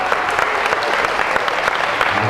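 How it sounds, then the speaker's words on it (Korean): An audience at an evening church gathering claps steadily, a dense, fairly close round of applause with a faint voice beneath. "우리 박수 한번 하겠습니다."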